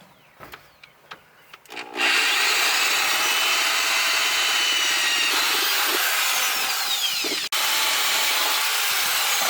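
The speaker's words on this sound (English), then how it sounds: "drill those holes, so we can start getting this thing mounted to the floor" Power drill boring holes into the steel floor of a Nissan 350z for a roll bar mount, a few taps and clicks, then a loud continuous whining grind with one brief break.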